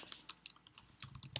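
Fingers typing on a computer keyboard while searching a sports card site: quick, uneven bursts of light key clicks, close by, with no talking.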